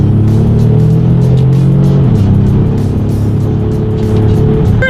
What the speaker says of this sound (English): The acceleration is definitely on point, especially for a 3-row SUV.